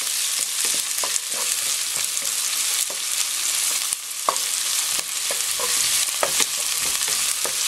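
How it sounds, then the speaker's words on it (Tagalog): Onion frying in a pan for pork and ribs pochero, a loud close crackling sizzle with repeated scraping stirs and clicks of the utensil against the pan, no speech. "Then dito, ilagay natin itong sibuyas. Okay, medyo lutuin natin yung sibuyas."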